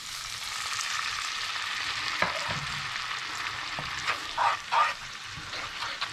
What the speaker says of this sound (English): So to help deglaze that, I've got here a 1/4 cup of red wine vinegar